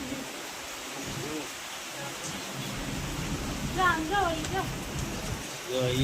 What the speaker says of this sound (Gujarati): હા વરસાદ શરૂ થઈ